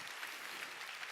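Faint, steady applause comes from a congregation during a Korean sermon, a soft continuous patter of many hands heard at a distance.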